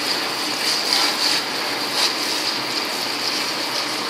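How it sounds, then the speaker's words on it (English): Cold water sprayed over freshly cooked beets to rinse and cool them, a steady close hiss of spray with no gaps, faint mechanical clicks now and then. "take some cold water and spray on them just to give them a rinse"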